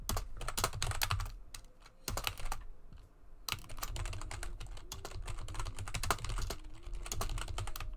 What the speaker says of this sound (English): Imagine typing.